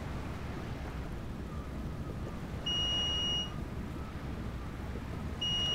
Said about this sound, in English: So we're getting a warning there, a little beep that we're ready to land,